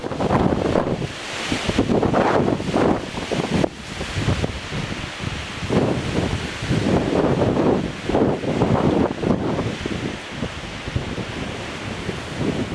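Strong, gusty wind during a winter storm in the Podhale mountains buffets the microphone in loud, roaring surges for the whole stretch, with a rustling, surf-like wash and no voices.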